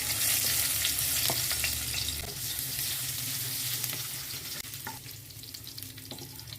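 Cashew nuts frying in hot oil for rice halwa, making a loud, dense sizzle with scattered crackles and spoon scrapes that eases slightly toward the end.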